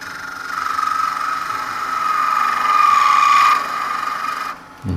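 A hand gouge pares away wood in a steady, close scraping rasp that grows slightly louder, holds for several seconds and then stops abruptly.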